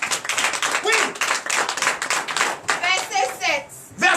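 A church congregation at a Sunday worship service in Comè, Benin, claps in acclamation, a dense, rhythmic patter of many hands close by, with voices calling out and singing over it toward the end.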